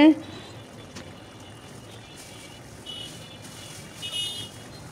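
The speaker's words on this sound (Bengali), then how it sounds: "আমি খুব ভালোভাবে বলক চলে এসেছে" A pot of chicken curry with potato and papaya simmers at a full boil, giving a soft, steady bubbling and faint hiss, close but quiet, after a brief clatter at the start.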